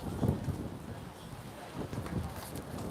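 Pouring rain at the finish of an outdoor 24-hour running race makes a steady, broad hiss, with gusts of wind and a few dull low thumps rising and falling throughout.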